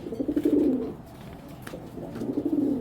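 Two rounds of soft, throaty cooing from broken-eye pigeons, close by, separated by a brief quiet gap.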